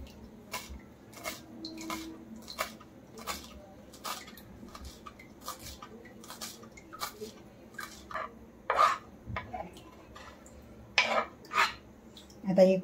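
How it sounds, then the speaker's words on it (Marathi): A knife chops fresh coriander on a board in a home kitchen, a run of quick, crisp taps coming in uneven bursts, louder toward the end, with faint background clatter. "आता कोथिंबीर कापून घेऊया।"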